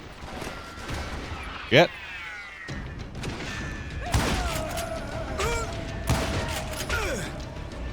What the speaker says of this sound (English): Where the hell was the other one shooting at me?